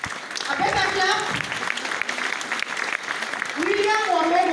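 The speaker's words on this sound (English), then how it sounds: "A better clap." Audience clapping at a graduation ceremony, a continuous patter of applause with ululating and cheering voices rising over it.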